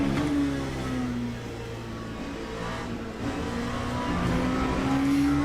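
An LMP2 prototype race car engine drones steadily in the Le Mans Ultimate racing game, a loud sustained hum with gentle pitch shifts and no talking.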